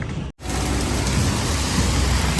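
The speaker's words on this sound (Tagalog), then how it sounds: "Ang lakas ng ano rito, ng ulan." Heavy rain pouring steadily on a vehicle in Zambales, a loud dense continuous hiss after a very brief cut near the start.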